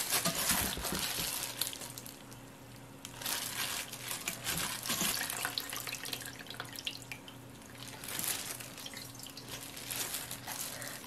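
Water being squeezed by hand out of salted radish for cold noodle pickles, giving close wet squishing, drips and trickles in several bursts.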